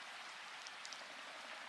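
Soft, steady rainfall with a faint, even hiss and a few scattered drop ticks, distant and alone without voices.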